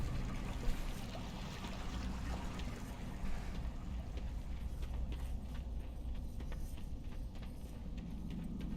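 Steady flowing water inside a cave in World of Warcraft, a continuous trickling, pouring wash heard throughout with a low rumble beneath and faint scattered clinks.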